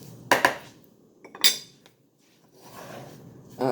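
Flour, butter and shredded cheddar cheese being mixed into a dough in a bowl, with a few sharp clinks of a utensil against the bowl and quieter scraping between them.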